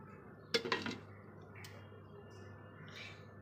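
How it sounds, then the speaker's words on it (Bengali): A lid set onto a cooking pan: a short metallic clatter of a few quick clinks near the start, then a quiet steady background hum. "এবার একটু ঢেকে দেবো।"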